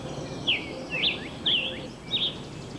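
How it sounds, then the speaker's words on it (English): Cardinal singing from treetops: four evenly spaced, sharp whistled phrases roughly half a second apart, moderately distant over a steady low outdoor hum. "the cardinal that skitters its melody among the treetops"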